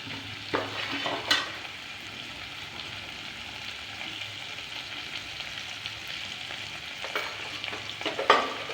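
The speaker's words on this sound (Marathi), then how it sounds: "आपला एक कांदा टोमॅटो आता छान असं परतला आहे" Onion and tomato frying in a pan for a green moong dish, with a steady soft sizzle and a few louder scraping stirs near the start and near the end, no voices.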